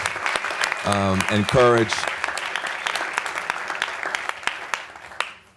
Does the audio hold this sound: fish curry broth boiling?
no